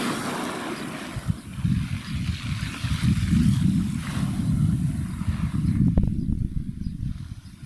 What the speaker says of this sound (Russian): Море неспокойно.